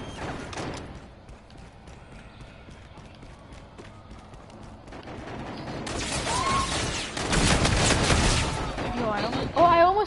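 Bursts of rapid gunfire in the video game Call of Duty: Infinite Warfare, building from quiet clicks and movement into loud, dense automatic fire in the last few seconds.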